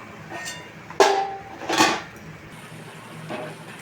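Crispy golden-brown wheat-flour masala puris are lifted from hot oil and handled in a metal pan, giving a few sharp clinks and scraping knocks close by, with no talking.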